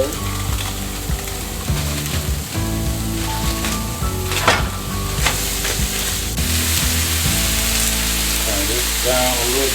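Burger patties sizzle loudly as they fry, a dense continuous crackle with scraping and clattering from handling throughout.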